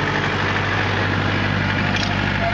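A Kubota L tractor fitted with a 680 loader idles steadily, a loud, even diesel rumble with a constant low drone and no change in pitch, heard up close without talk.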